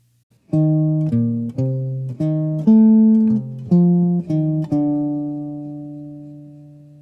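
A short jazz lick of plucked, sustained notes, about nine in a steady rhythm, ending on a low D that rings out and fades slowly, with no talking.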